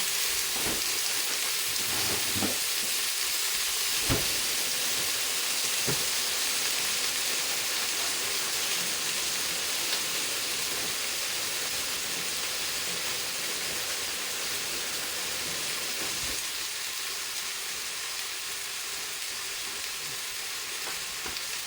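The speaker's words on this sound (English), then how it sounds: "because these are completely frozen, I'm frying these on really low" Frozen sausage patties sizzle steadily in a pan with a little oil over low heat, a constant crackling hiss with a few clinks and stirring knocks early on.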